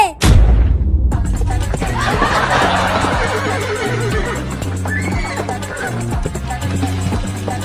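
A horse neighs loudly near the start, with whinnying and snorting continuing over a comic chase scene backed by music.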